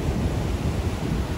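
Ocean waves break and surge in a continuous loud wash of broadband noise, with wind rumble and no voices.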